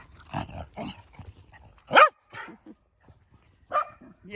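A dog gives short yips and barks at another dog during off-leash play among boarders, in sparse bursts with quiet gaps, fairly close and moderately loud.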